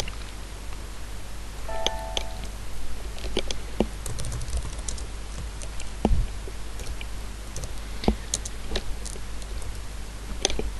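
Irregular, fairly faint keystrokes come from typing on a computer keyboard while building a template in Delta/Digitals software, with scattered clicks over a low steady hum and no speech.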